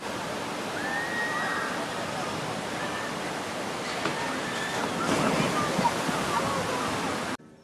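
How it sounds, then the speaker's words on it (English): Roaring rush of water from a big theme-park water ride with a huge drop, a steady broadband splash and surge that swells louder near the end over ambient crowd noise. "this is another big water ride that people really like with a huge drop"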